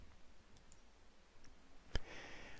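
A single sharp mouse click enabling VR hardware in X-Plane 11.20, standing out once against a quiet, faintly hissing room background.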